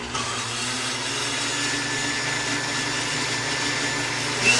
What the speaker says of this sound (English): Blend it on low.